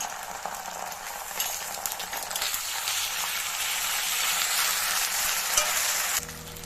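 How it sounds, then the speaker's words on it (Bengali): Ginger-garlic paste hits browned onions in hot oil, giving a close, continuous sizzle that grows a little louder and hissier before stopping abruptly near the end. "এর মধ্যে দিয়ে দেবো আদা রসুনের পেস্ট"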